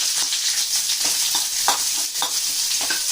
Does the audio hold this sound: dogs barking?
no